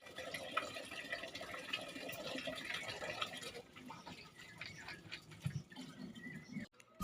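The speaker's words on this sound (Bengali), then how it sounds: "আমি তো জলের বোতল ভরা স্টার্ট করে দিয়েছি।" Water running from a tap into bottles on a cleaned washing platform, a steady trickling and splashing fill with some drips, fairly faint and continuous, with a brief shift in the flow partway through.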